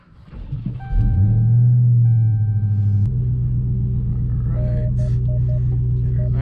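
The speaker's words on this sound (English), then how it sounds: "let's go ahead and back up the car into the garage." A 2020 Dodge Charger Hellcat Widebody starts up with a loud deep rumble and settles into a steady, throaty idle while backing into a garage, with a few faint beeps and a person talking under the engine.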